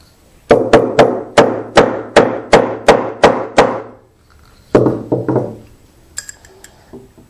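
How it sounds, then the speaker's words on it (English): A hand chisel is struck repeatedly to relieve wood where two mortises intersect on a handmade marking gauge: about ten sharp, evenly spaced close knocks, a pause, then a few quicker taps and light clinks. "So now I'm going to take a chisel and I'm going to relieve that area."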